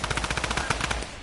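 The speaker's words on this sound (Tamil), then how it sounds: "என்கிட்ட ஸ்னைப்பர் இருக்கு, கொஞ்சம் தூரத்துல இருந்து போடலாம்" Rapid automatic gunfire from Fortnite on PS5 rattles out as a tight string of about a dozen evenly spaced, loud, sharp shots in quick succession, with no voices over it.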